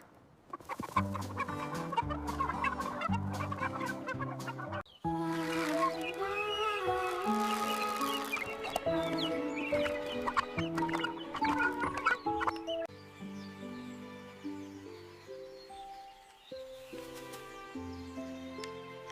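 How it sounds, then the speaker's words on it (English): Chickens cluck and squawk continuously on a farm, several birds close and busy, layered over a steady melodic music track. "Cluck, cluck."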